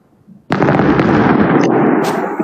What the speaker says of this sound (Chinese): 你看我为你放的烟花，你看到了吗？